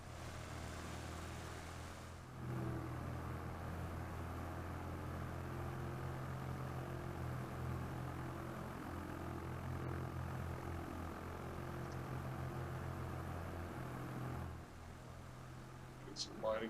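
Steady drone of a twin-engine propeller aircraft in flight, heard from inside as a constant low rumble with a hum throughout, with brief changes near the start and end.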